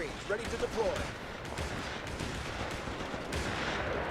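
Scattered gunshots and bursts of fire crackle at a distance under steady battlefield rumble in the strategy game Company of Heroes 3, with a few brief tonal blips near the start.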